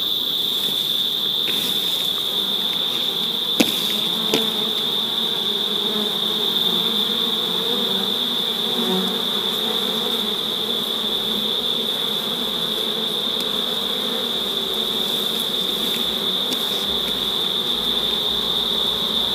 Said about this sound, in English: And now I'm going to gently get the bees off